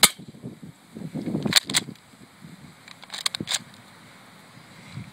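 A spring-powered BB pistol fires at a Sprite can at close range, giving a couple of sharp snaps with faint handling noise around them and no talking.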